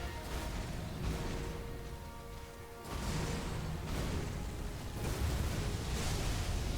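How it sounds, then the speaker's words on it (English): Blood explosion attack during the Radahn boss fight in the Elden Ring DLC, rumbling bursts and whooshing blasts that swell in waves over a dense, noisy game soundscape with no talking. "blood explosion into gravity pull is a fucking true combo"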